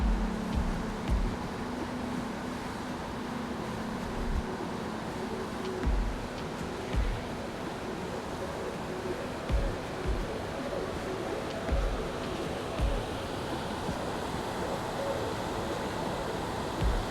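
Steady rushing water from waterfalls and streams along a Mt. Rainier trail forms a constant broad roar, with soft low thumps scattered through it and no talking.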